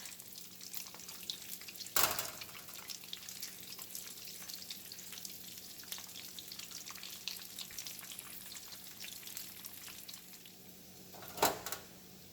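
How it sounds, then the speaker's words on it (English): Potato croquettes sizzle quietly and steadily in a pan, with two sharper bursts of crackling spatter standing out. "I'm going to continue frying the second batch"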